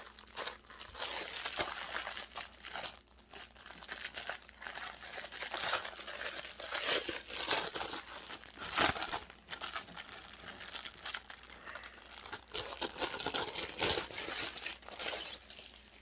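Plastic packaging crinkles and crunches almost continuously as a Lenormand mat is unwrapped, with dense, busy rustling close up throughout and no talking.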